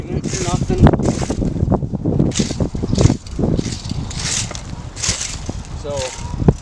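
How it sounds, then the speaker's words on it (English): Wind gusting outdoors in a backyard, a steady rushing roar with microphone buffeting and swells every second or so, loud throughout, with a person talking over it. "it's windy"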